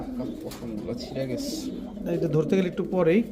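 Pigeons coo and warble close by at a pigeon sale, their throaty calls blending with someone talking over them.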